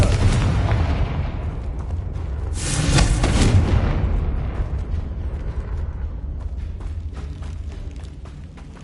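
Spell explosions from Bombarda and Confringo in Hogwarts Legacy, with a broad rumbling blast that swells around the middle and then fades into a long, crackling decay of scattered pops and debris, loud and close.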